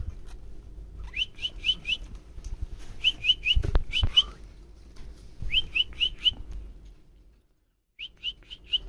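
Budgie chicks chirp in quick bursts of four or five high notes, repeating through the clip with short pauses, over a low background rumble and some handling thumps.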